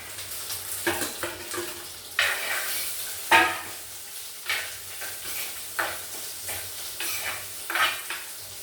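Green chili, ginger, garlic and shallots sautéed in a pan, a soft sizzle under rhythmic stirring strokes, roughly one scrape per second, no talk.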